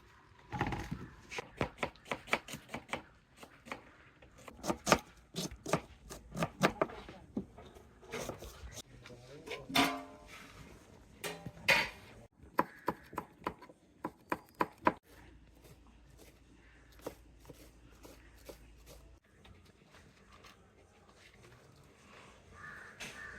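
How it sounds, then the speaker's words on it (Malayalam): A knife finely chops onion on a cutting board for a Kerala-style chicken cutlet: quick, crisp, irregular taps in bursts with short pauses, fairly quiet and close. "നമുക്ക് സവാള ചെറുതായിട്ട് അരിഞ്ഞെടുക്കണം."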